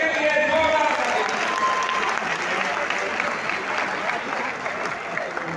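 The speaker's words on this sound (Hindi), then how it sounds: "इनके लिए जोरदार ताली" Loud applause from a crowd at a Teachers' Day address at CRSU Jind, dense clapping sustained throughout and gradually easing slightly toward the end, with no speech over it.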